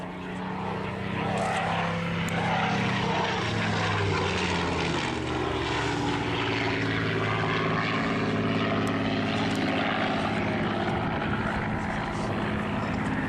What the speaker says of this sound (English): This particular Spitfire is a Mark 5B